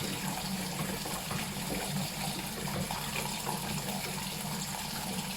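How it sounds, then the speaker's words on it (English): A mash paddle swirls hot beer wort in a brew kettle to chill it: a continuous, even sloshing and rushing of liquid, close and steady throughout with no voices. "I am going to use that mash paddle now to start spinning the beer to get it down in temperature really fast"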